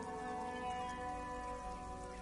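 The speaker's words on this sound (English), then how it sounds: "Sheets of rain over the water, a flight of stairs leading into the ocean." Rain in the video game Disco Elysium, a steady dense wash of sheets of rain falling over water, continuous and fairly loud, with a sustained tonal ambient music bed layered underneath throughout.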